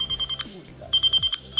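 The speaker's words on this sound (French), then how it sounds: "il y a le téléphone qui sonne" A mobile phone rings beside a communal pond during carp fishing with a method feeder, giving short repeated electronic trill bursts that are fairly close and clear.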